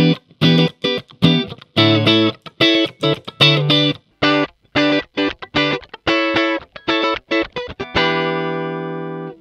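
Electric guitar played on a clean channel through a Joyo DC-15S rechargeable amplifier with gain low and tone centred, close and loud, with choppy strummed chords and short muted stabs before a final ringing chord that fades out.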